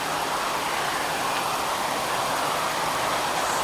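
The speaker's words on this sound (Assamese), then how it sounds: "চাওক ইমান ডাঙৰ বৰষুণ" Heavy rain pours down outside a shop during a downpour, a steady, dense wash of broadband hiss that stays loud and unbroken throughout, with no voices.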